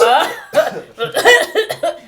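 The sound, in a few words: voice imitating an awkward cough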